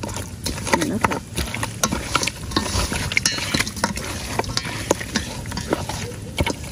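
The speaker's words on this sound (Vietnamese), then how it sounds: "Giờ mình quậy lên cho cái chao này nó nhuyễn ra." Fermented bean curd (chao) being stirred in a pot for a Vietnamese duck hotpot, with steady scraping and sloshing strokes over a soft sizzle from the pan.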